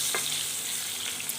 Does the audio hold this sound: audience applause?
no